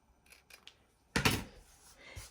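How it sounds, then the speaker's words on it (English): Scissors trim the edges of a sewn fabric collar stand: a few soft clicks, then one crisp, louder snip, all close and quiet with no talking. "make sure we trim the edges of our collar"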